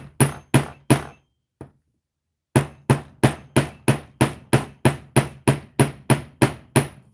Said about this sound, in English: This is a 13-ounce jeweler's hammer with interchangeable heads.